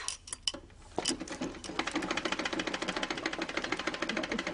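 Sewing machine in a TV drama scene, its rapid, steady mechanical stitching rattle starting after a few brief clicks and running continuously at moderate loudness.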